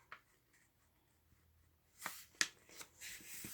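Sheets of A4 printer paper are handled and folded in half, with a few sharp crinkles and creases close by after a quiet stretch, no talking.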